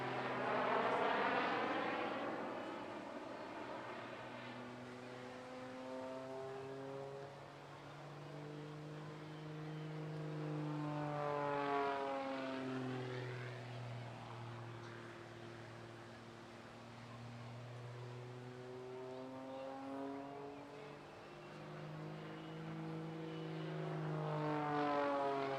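A biplane making jet-like engine noise performs unlimited aerobatics at a seaside air show, droning loudly and sweeping overhead in rising and falling passes with strong pitch shifts as it approaches and recedes.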